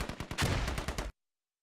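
Gunfire in the military shooter Squad: a rapid burst of sharp shots, close and loud, rattling off in quick succession for about a second before it cuts to silence.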